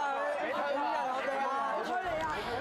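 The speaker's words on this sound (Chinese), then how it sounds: "在場集會同圍觀嘅市民起哄" Crowd of protesters and onlookers at a street barricade at the Argyle Street and Nathan Road junction jeering, a dense continuous wash of overlapping raised voices and chatter, fairly close and steady throughout.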